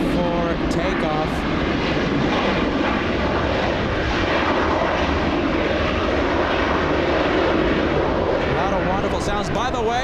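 Qatar Airways Airbus A350-1000 jet taking off from runway 25 right at LAX, a sustained loud roar of engines filling the scene throughout, with people talking over it.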